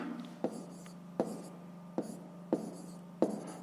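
Chalk or marker strokes on a board during a fifth-grade math lesson on fractions, five short distinct taps and scratches spaced about a second apart over a low room hum, fairly quiet.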